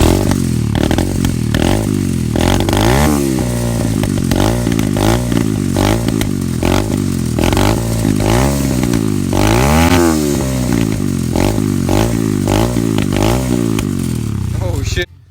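An SSR 125 pit bike engine running rich revs up and down repeatedly, a loud close sputtering engine with rising and falling pitch and popping backfires from the exhaust, continuous throughout.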